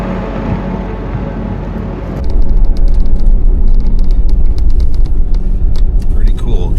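A vehicle drives off-road along the Mexican border in Arizona, its engine a loud, steady rumble close by, the noise jumping up partway through as the ride grows rougher with rattles, under occasional talk.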